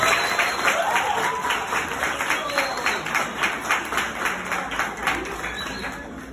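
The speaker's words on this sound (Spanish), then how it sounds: "Aplausos." Sustained applause from a crowd at a wedding ceremony, dense rhythmic clapping that holds at an even level throughout, with faint voices mixed in underneath.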